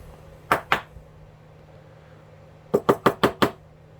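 Sharp taps on an Irwin adjustable wood bit (fly cutter) to loosen its tight setting: two quick knocks, a pause, then a rapid run of five close, crisp raps.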